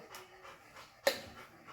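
Dog panting softly in a home kitchen, a faint rhythmic series of breathy huffs with one sharper snort or yip partway through, close by and otherwise quiet.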